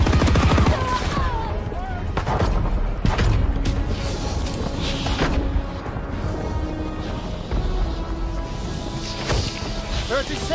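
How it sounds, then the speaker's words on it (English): Continuous gunfire in a Call of Duty WW2 multiplayer battle, bursts aimed at infantry beside a tank, with dense rattling shots, clanks and creaking machinery layered loudly under game voices throughout. "They fire on the infantry by the tank."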